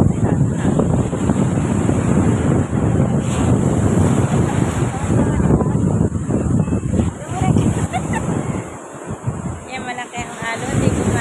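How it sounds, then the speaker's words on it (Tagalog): Strong sea waves surging onto a beach while heavy wind buffets the microphone, a loud rough roar that swells and dips unevenly with no talking. "Hindi makaligo kasi malakas yung alon."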